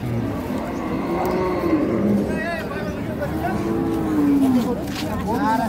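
A dairy cow of the local deshi breed moos at a busy rural cattle market in Dinajpur, several drawn-out lowing calls rising over a steady crowd hubbub with people talking nearby.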